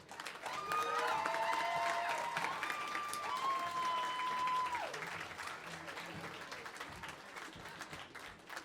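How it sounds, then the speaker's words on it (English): A crowd at the CoreCon 11 costume contest applauds the judges with loud, sustained clapping and high whoops over the first few seconds, then thinner clapping and chatter as it dies down. "please, another round of applause for our judges"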